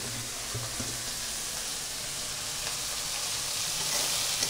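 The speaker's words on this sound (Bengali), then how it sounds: "এখন চিংড়ি মাছটা ভেজে নিচ্ছে" Prawns fry in a pan for a jackfruit and prawn curry, giving a steady, even sizzle with faint stirring clicks that builds slightly toward the end, with no voices.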